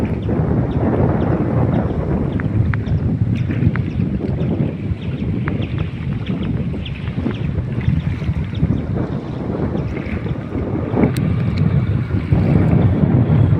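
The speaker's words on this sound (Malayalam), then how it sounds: "കാറ്റുമുണ്ട് ഭയങ്കര മോതയുണ്ട്" Strong wind and choppy waves in flooded Kuttanad backwaters in Kerala, a loud, continuous roar of gusts buffeting the microphone over churning water slapping nearby.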